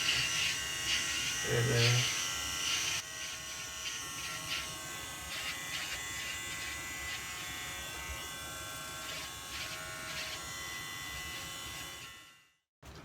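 Electric hair trimmer buzzing steadily while shaving a head, a continuous close whine that shifts slightly as it moves through hair, with a brief voice early on, then cutting off at the end.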